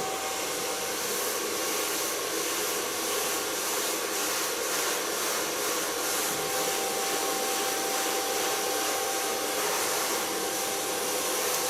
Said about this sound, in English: het geluid van de föhn is gewoon zo